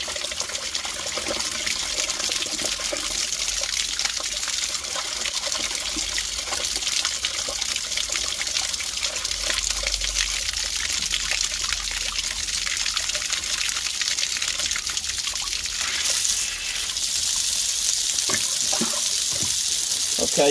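Water gushes steadily through a freshly unblocked Victorian drain, a loud continuous rushing and trickling wash that roughens and gurgles toward the end.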